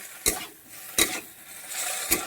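Boiled potatoes going into a pan of fried onion and spices and being stirred, three sharp scrapes of a spoon against the pan over a soft steady sizzle, close by, no voices.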